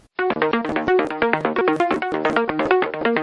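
A bright synth pluck plays a quick, rhythmic melodic sequence of short plucked notes, steady and up front with nothing else, from a remix.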